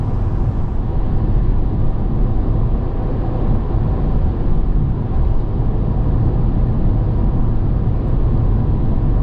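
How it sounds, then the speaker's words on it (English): Inside the cabin of a 2021 GMC Yukon Denali cruising on a freeway at 80 mph, a steady, fairly subdued low road and engine hum runs unbroken with no talk. "listen to how quiet this truck is going down the freeway at 80"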